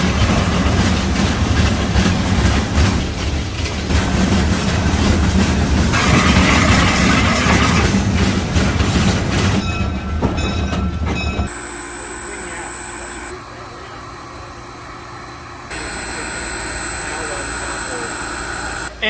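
A basement-built miniature steam locomotive runs on its track, chuffing and rumbling loud and near, then drops to a quieter hum with hiss. Voices talk faintly over it.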